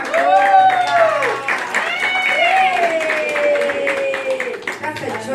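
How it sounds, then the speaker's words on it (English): A church congregation claps at a Sunday gospel service, a dense, loud patter of hands mixed with excited whooping and cheering voices throughout. "Let's give a applause."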